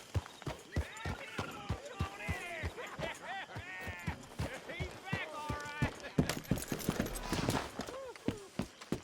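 Regular hoof clip-clops from a horse at a trot in the video game Red Dead Redemption, sharp and close, beneath a voice talking over them.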